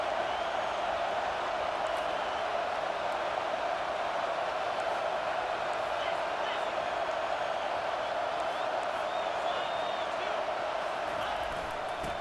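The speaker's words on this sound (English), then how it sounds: "It is getting loud as this crowd tries to help its defense." A stadium crowd roars steadily in EA Sports College Football 25 as the home fans get loud to back their defense, a dense, continuous wash of noise with no breaks across the stretch.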